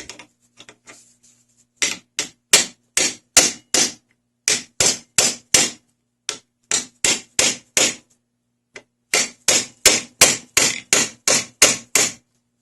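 A hammer taps repeatedly on a worn parking brake lever piece clamped in a vise on a 1994 VW Jetta MK3, giving sharp, close metallic strikes in quick rhythmic runs with brief gaps between them.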